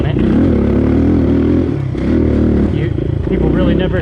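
A Suzuki DR200 trail motorcycle fitted with an FMF Q4 exhaust pulls away under throttle, its single-cylinder engine buzzing loud and close with a brief dip before picking up again.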